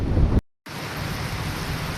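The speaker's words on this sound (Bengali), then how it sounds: "গাইস বৃষ্টি পড়তেছে, এই যে দেখেন, এই যে বৃষ্টি হচ্ছে" Steady rain falls in a broad, even hiss, broken by a sudden brief dropout before the wash of rain resumes at a constant level.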